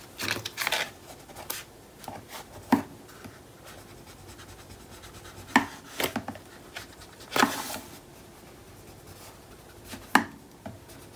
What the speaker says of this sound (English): I'm just pressing gently and just running it back and forth to get it to go into the curve of the spine